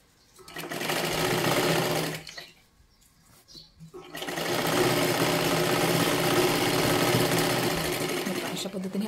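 A sewing machine stitches a princess-cut blouse with a steady close whir for about two seconds, stops briefly while a voice speaks, then runs again continuously to the end.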